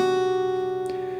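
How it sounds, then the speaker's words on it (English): Fingerstyle acoustic guitar playing a short hammer-on and pull-off figure from Silent Night, sustained ringing notes with a brief plucked accent near the end, close and clear with no voices. "And then we do a little hammer on pull off"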